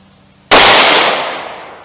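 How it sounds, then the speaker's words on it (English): A single sharp pistol shot from a compact .380 ACP pocket pistol firing Remington Golden Saber rounds over a chronograph at a range, loud and close, with a long decaying ring afterward. "I'm going to keep firing some rounds until I get some chronograph readings."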